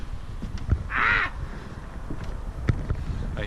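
A seagull gives one loud, drawn-out call close by outdoors, with faint clicks and a low background rumble around it and no talking.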